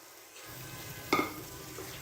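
Mutton keema is stirred into hot oil in a pan, setting off a quiet steady sizzle, with a brief metallic scrape of the spoon against the pan partway through.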